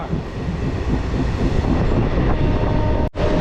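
A new train on its inaugural Krishnanagar to Amghata run gives off a loud, continuous rumble and rattle from close by, with a momentary dropout near the end.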